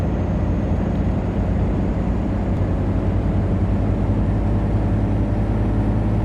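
Heavy truck engine in the Alaskan Road Truckers driving game cruising at about 50 mph, a steady, loud, low drone with constant road rumble and no break.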